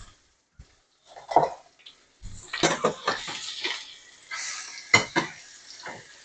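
Food for a Tex-Mex dinner is flipped in a pan, a few clanks and scrapes of a utensil against metal followed by a brief sizzle, close and fairly loud between quiet pauses.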